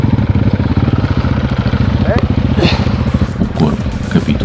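Off-road motorcycle engine, a Husqvarna 701 or KTM 450, labouring in mud on a dirt trail, with a close, loud, pulsing low throb and some clattering and revving as the rider struggles.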